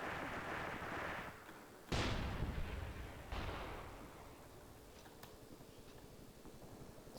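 Artillery fire in the video game Graviteam Tactics on the Mius Front, with two heavy booming blasts and rolling echoes followed by quieter distant thuds and faint cracks, fairly soft overall.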